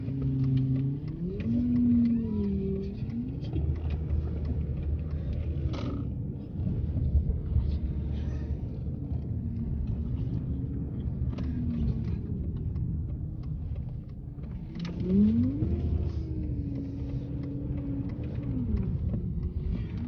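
A Chrysler 300C engine with an automatic transmission hums low and steady while driving, with gear shifts rising and falling in pitch, fairly quiet and muffled.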